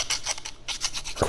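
A hand file rasps across a metal bottle opener to remove a burr, a handful of quick, close, scratchy strokes with short gaps between them, ending on a heavier final pass.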